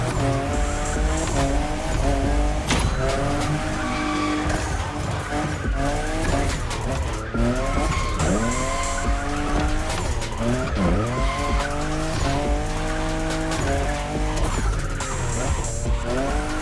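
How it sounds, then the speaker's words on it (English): A Toyota Supra fifth-generation sports car races in the video game The Crew Motorfest, its engine revving and shifting loudly and continuously while tires squeal and skid through corners over a steady roar. "I'm just in love with what Toyota did with this new Supra,"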